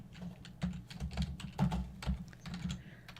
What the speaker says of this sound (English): I'm just typing with one hand like I have all day